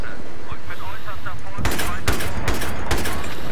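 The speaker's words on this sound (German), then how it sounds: "Ich hab grad auf den Panzer geschossen" Loud bursts of automatic gunfire fired at a tank on a Tehran highway map in Battlefield 3, several rapid volleys close up with brief gaps, following quieter game sounds.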